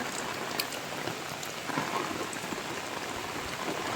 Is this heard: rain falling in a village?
yes